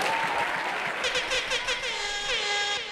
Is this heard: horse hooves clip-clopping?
no